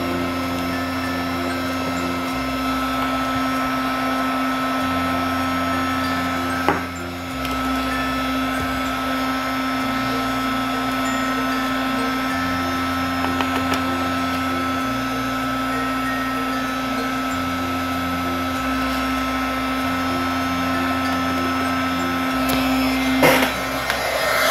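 Heat gun blowing steadily to melt white embossing powder on a card, a continuous airy whir with a low hum that runs alone at an even level throughout.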